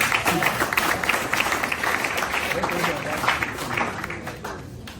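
Audience clapping at a trading seminar session in Lagos, a dense steady patter of hands that continues throughout and thins slightly near the end, with voices mixed in.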